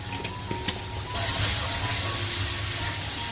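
Ginger and garlic paste with turmeric powder frying in a pan, a steady loud sizzle that starts abruptly about a third of the way in and continues evenly to the end.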